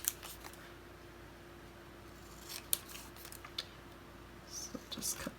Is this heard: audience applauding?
no